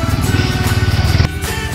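A four-wheeler ATV engine runs close by with a throbbing, pulsing mid-pitched growl that cuts off abruptly near the end.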